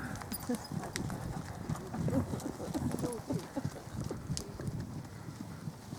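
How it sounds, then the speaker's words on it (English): Hooves clip-clop in an irregular walking rhythm, fairly close, with a voice talking over the steps. "Oh, what's all this walking going on, Penny?"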